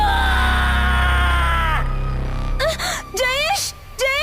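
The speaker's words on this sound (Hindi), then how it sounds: "गाना बंद होने की वजह से मुंजिया एकदम जोर से चीखता है।" A horror-story monster lets out loud, drawn-out screams and wailing howls, with rising and falling cries closing in near and intense over a dense, rumbling sound-effect backdrop.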